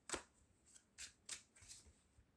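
Cards drawn and laid out for a fortune-telling reading, a few soft, crisp flicks and slides in an irregular rhythm, close and quiet with no talk.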